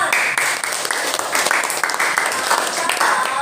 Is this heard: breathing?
no